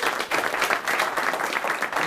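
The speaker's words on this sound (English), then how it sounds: "If you guys could give a big round of applause for Mr." An audience applauds a speaker at High Point University, with dense, steady clapping from a sizable crowd lasting the whole stretch at moderate loudness, with no voices over it.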